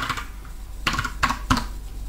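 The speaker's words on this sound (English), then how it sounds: "we have to type Python" A few sharp, close keystrokes on a computer keyboard, three distinct clicks in quick succession with no voices.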